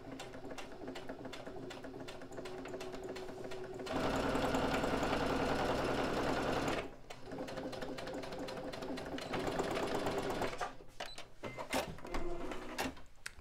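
A sewing machine stitches a tote bag slowly in a series of rhythmic, clattering runs, with louder bursts of stitching and short pauses between them.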